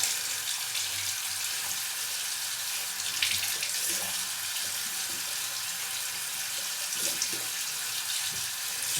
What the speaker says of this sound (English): Okay, first pass complete, rinse off.